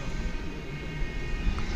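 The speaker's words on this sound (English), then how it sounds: "So this plane coming in from Ontario" An airliner arriving from Ontario, California on approach to land at DFW Airport at night, a steady distant engine rumble and whine with no other sounds.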